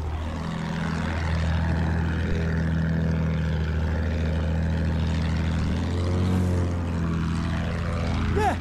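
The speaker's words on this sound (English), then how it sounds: "There! Enemy plane!" A propeller warplane drones steadily through a Battlefield 1 match, its engine hum continuous and fairly loud, rising in pitch briefly near the end as it passes, with faint game sounds around it.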